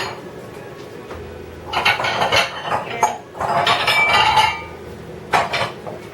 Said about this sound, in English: I'm going to get a Pyrex bowl